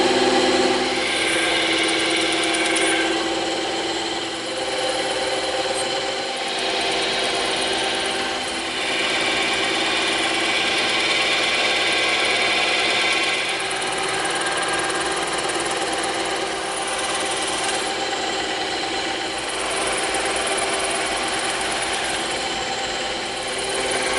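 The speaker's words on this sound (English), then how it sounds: "We're going to get as much of this as we can with the bandsaw." A bandsaw cutting through layered EVA foam, giving a continuous, fairly loud buzzing whir with a slight rise and fall as the blade works through the stacked material.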